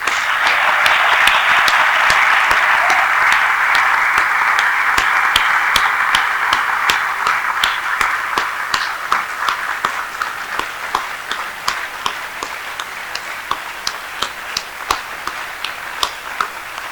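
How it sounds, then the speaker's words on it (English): Sustained audience applause at a graduation congregation ceremony, dense and loud at first, then thinning into scattered individual claps toward the end. "We are going to applaud like we have never applauded before for these young men and women"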